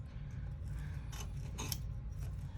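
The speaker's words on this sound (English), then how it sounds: "I should not be cutting the zipper with my good applique scissors" Appliqué scissors snip through excess zipper tape during in-the-hoop embroidery work on a wallet, giving two crisp cutting crunches over a steady low hum.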